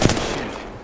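Short burst of video game gunfire, a sharp shot at the start trailing into a decaying echo, loud and close with no talk.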